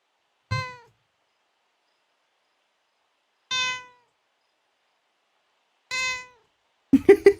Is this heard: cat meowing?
yes